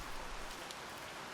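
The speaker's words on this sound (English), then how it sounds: "It's raining, man." Steady rain falls in the Roman city-building game Pompeii: The Legacy, a soft, even hiss of drops on surfaces that carries on throughout with no talking.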